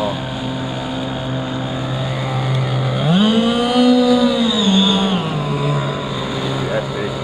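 Small motorboat engine buzzes steadily, then revs up in pitch for a couple of seconds before settling back down, close by with a watery hiss.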